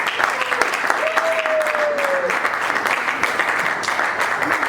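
Audience applause fills a stage event at an entertainment show, a dense steady clapping from a crowd that holds throughout, with a brief tonal whistle-like sound partway through.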